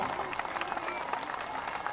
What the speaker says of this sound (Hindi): ऐसी तालियों की गड़गड़ाहट हो।